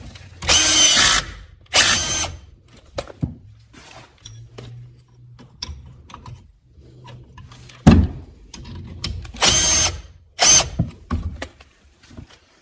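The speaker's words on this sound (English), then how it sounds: "Hold the nut on the inside and screw the bolt in." Power drill driving a bolt into the front brake caliper bracket of a 2008 Toyota Prius, heard as several loud whirring bursts separated by pauses, with softer metallic clicks and handling noises in between.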